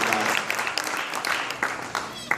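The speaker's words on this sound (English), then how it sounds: "That deserves a round of applause." An audience bursts into a round of applause, dense clapping from many hands over a couple of seconds, with a speaker's voice cutting in above it.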